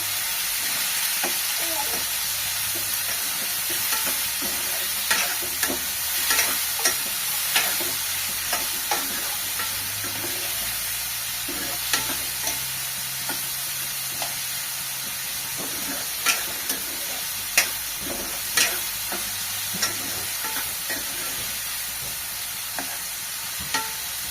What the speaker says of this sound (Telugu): లైట్గా ఫ్రై చేయాలన్నమాట వీటిని ఇక